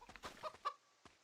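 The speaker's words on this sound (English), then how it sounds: "These chickens attacking me?" Chickens in Divinity 2 Ego Draconis cluck a few quick, faint notes, then a short squawk, close by with quiet gaps between calls.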